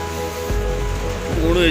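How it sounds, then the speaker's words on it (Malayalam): Heavy rain pours steadily through the whole short stretch, a dense continuous wash with a faint tonal hum and a brief voice-like sound near the end. "നല്ല മഴയാണ് കേട്ടോ, നല്ല മഴ"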